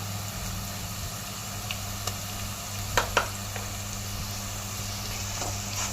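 Onion pieces, salt and mixed masala fry in oil for a homemade mutton curry, making a steady close sizzle with a few sharp clicks of stirring.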